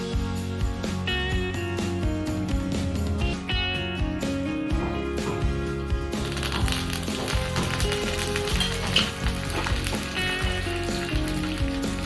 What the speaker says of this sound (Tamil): ஒரு வரமிளகா, கருவேப்பிலை எல்லாம் போட்டு நல்லா வதக்கி எடுத்து ஊற்றிடுங்க